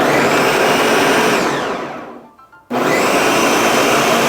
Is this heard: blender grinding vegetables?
yes